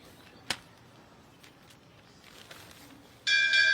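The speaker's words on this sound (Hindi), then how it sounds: "ये घंटी बजी।" A single bell rings once at a school, sharp and clear, then a long steady ringing electric bell sounds loudly near the end after a quiet stretch.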